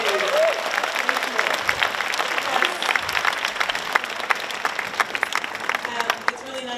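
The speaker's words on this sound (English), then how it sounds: "let's give them a round of applause" Applause from a crowd at a whole-school assembly, steady clapping with scattered sharper individual claps and a murmur of voices underneath, lasting several seconds at a moderate level.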